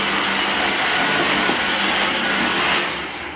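A new Dyson vacuum cleaner runs with a loud, steady whine and rush of air, close and unbroken, then winds down near the end.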